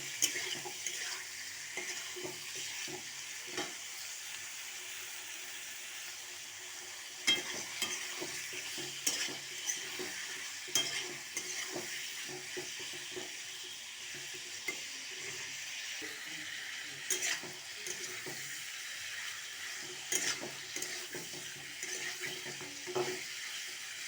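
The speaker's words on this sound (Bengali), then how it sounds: "এবার এটাকে এক মিনিটের মতন একটু নাড়াচাড়া করে নেবো, ভেজে নেবো" Goat offal and potatoes fry in a pan with a quiet, steady sizzle, broken by repeated scraping and clinking strokes of a spatula stirring at an uneven pace, close by and with no talking.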